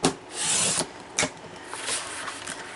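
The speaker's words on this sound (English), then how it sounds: "from the champagne cardstock, we are just going to trim a 1/4 inch off." Champagne cardstock sliding and being cut on a paper trimmer, close and moderately loud: a sustained scraping swipe, a short sharp click, then lighter rubbing and a few small ticks.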